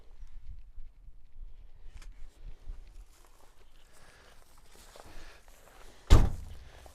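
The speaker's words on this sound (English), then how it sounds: "Doors shut good." A 1971 Ford Mustang door swings shut with one loud, solid thunk near the end, after several seconds of quiet, faint shuffling.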